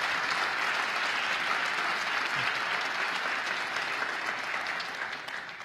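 Sustained crowd applause at a Bronx State of the State event greets a former Bronx Borough President, dense steady clapping filling the room and tapering slightly at the end.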